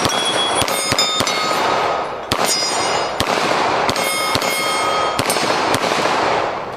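A CZ-75 semi-automatic pistol fired at a 2-liter bottle outdoors, about a dozen sharp loud cracks at uneven intervals with ringing tails, some in quick pairs, with no talking.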